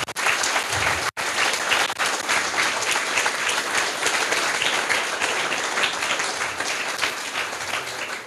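A hackathon audience at a youth coding event's closing presentation breaks into sustained, dense applause for the organising team, loud and steady throughout with a brief dropout early on and no talking over it.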